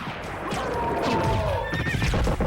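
A horse-like enemy whinnies in a shrill, wavering cry with clip-clopping hooves and game-like noise underneath, fairly close and prominent, in Castlevania: Symphony of the Night.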